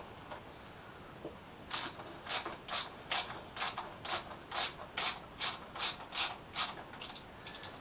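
A ratchet wrench cranks out a 10 mm bolt on a Suzuki GSX-S 1000F motorcycle, making a long run of evenly spaced, crisp clicking strokes, close and fairly quiet, with no talking.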